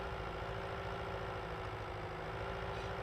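A tractor engine in Farming Simulator 19 idles in a steady, even low drone that holds at the same level throughout, with no talking over it.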